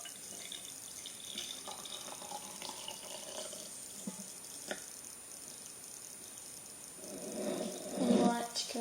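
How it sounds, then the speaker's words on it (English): Cooled homemade Kool-Aid for dyeing hair is poured into a cup, a quiet trickle that swells into a louder splashing pour near the end, under a person talking softly. "then you can pour it into your cup"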